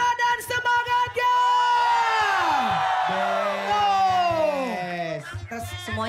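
A crowd in Cilacap at a live stage event roars back to the host with loud, sustained cheering, whooping and yelling, many overlapping voices swelling together for several seconds before easing off.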